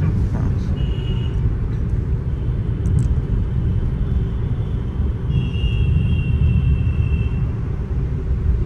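A car rolls slowly in fourth gear during a driving lesson, its clutch eased out gently, giving a steady low cabin rumble of engine and road noise that holds evenly throughout.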